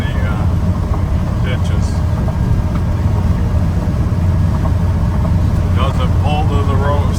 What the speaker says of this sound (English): Nice driving truck, goes down the road nice.